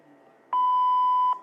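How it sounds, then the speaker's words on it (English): A single steady electronic time-signal beep sounds for nearly a second, clear and pure, over faint background hiss. "At the tone, 0 hours, 44 minutes, Coordinated Universal Time."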